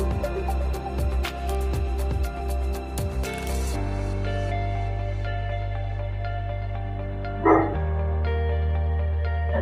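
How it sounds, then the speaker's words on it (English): A pet dog barks in a room during a guided breathing exercise, the sharp barks sounding repeatedly in the first few seconds over a steady tonal music background that later shifts. "That's my dog, he's cheering you on"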